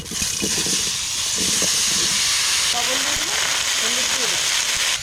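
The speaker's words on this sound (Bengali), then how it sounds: "এবার কুমড়ো দিয়ে দেবো কড়াইতে" Pumpkin drops into a hot, oily kadai after fish frying and sends up a loud, steady hissing sizzle that fills the moment. A faint voice sounds underneath in the second half.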